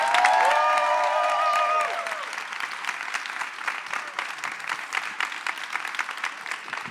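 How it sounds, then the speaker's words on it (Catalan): Audience applause at a Christmas gospel choir concert in Terrassa, a steady crowd clapping that runs throughout, louder at first under a fading sung chord, then settling into continuous even clapping. "I un aplaudiment pel nostre director, Julià Monge."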